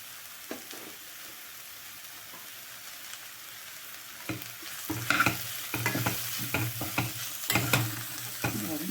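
Cluster bean and lentil (dal) usili is stirred in a pan: a soft background sizzle, then from midway a run of loud, irregular spatula scrapes and knocks against the metal.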